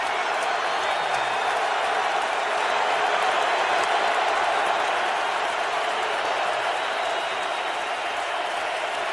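A football stadium crowd at an NFL game in Indianapolis roars in a dense, continuous wash of cheering and applause that holds loud and even throughout.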